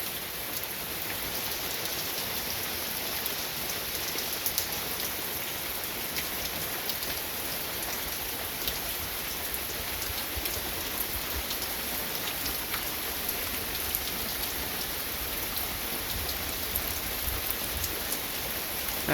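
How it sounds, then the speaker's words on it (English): Heavy rain pours steadily during a storm, a dense continuous hiss with scattered drops pattering on nearby surfaces, unbroken and even throughout, with no voices. "So a little bit of lightning, a little bit of thunder. Lots of rain."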